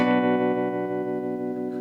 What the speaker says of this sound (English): maybe just tremolo without the reverb